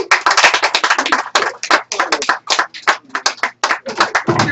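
A comedy club audience applauds a comedian at the end of his set, loud close clapping in uneven bursts with brief gaps.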